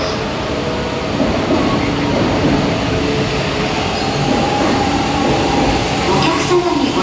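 A shinkansen rumbles into a platform in Japan with a steady low roar and rising hum, while a Japanese platform announcement plays over the noise.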